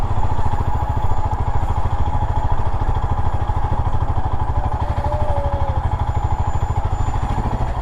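A motorcycle rides along the road toward Grishneshwar temple in Maharashtra, its engine putting out a close, steady rapid thrum throughout with no voices.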